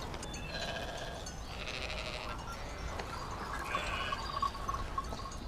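Sheep bleating in a field around grazing land, several overlapping calls at moderate distance over a steady outdoor background, with no talking.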